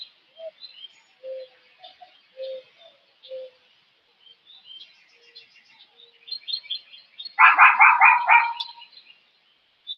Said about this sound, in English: a lot of birds out this morning.